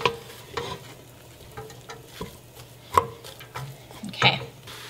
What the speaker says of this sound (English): now just add that all in with the ground beef. Just kind of chop it up.